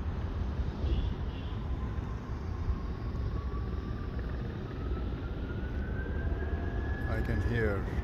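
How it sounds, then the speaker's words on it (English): Air New Zealand A320 jet engines spooling up for takeoff, a distant, steady rumble with a thin whine rising in pitch over several seconds and a brief voice near the end. "I can hear the engines revving up."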